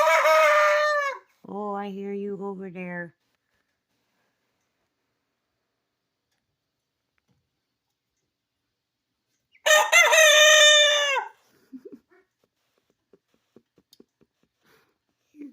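Rooster crowing indoors in a kitchen, two loud close crows at the start and another around ten seconds, with someone speaking briefly between them and faint clucks and ticks after.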